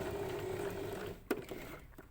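A sewing machine stitches a diagonal line on a bag, a faint, quiet mechanical whir that runs steadily for about a second before stopping with a single soft click, no voices present.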